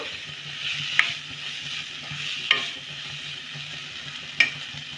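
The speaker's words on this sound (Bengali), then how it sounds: "পেঁয়াজ আর শিমলা মির্চটা একটু ভালো করে নেড়ে নেব।" Onion and capsicum sizzle steadily in a pan, with a spatula stirring and three sharp taps against the pan spaced a second or two apart, and no voices.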